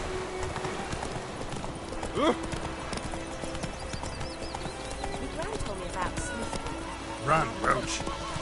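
Roach the horse gallops in The Witcher 3 on PS4 Pro, a continuous clip-clop of hooves with a couple of short whinnies, under voices speaking.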